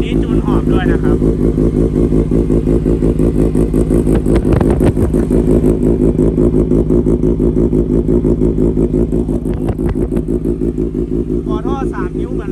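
A Kawasaki ZX6R with an SC exhaust and E20 tuning revs steadily and loudly up close, its sporty engine note holding high with small rises and dips and a few sharp blips.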